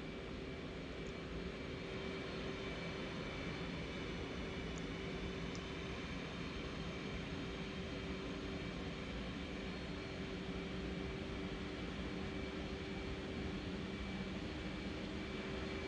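An F/A-18 jet in the DCS flight simulator roars steadily under power, a dense, constant engine drone with a faint high whine that holds unchanged throughout with no talk.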